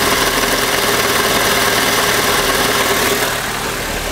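A car engine idles steadily with the clutch released, recorded with the microphone close to the gearbox in a repair shop after a new clutch was fitted; a loud, even rumble with a slight drop in level near the end.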